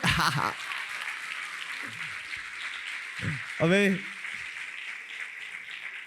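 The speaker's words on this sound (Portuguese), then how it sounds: "Uma salva de palmas, nosso Deus, amém." Congregation in a church service applauding, a steady wash of clapping that runs the whole time while a voice speaks briefly over it.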